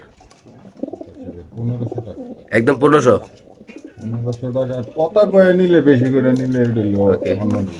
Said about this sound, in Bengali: এখানে আছে একটা ব্ল্যাক রেসার কবুতর